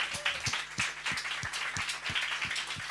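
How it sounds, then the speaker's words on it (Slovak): An audience at a UX meetup applauds an arriving guest with steady, dense clapping that fills the room, with faint rhythmic thumps running through it for the whole stretch. "A veľký potlesk"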